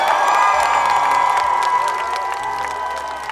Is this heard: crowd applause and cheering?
yes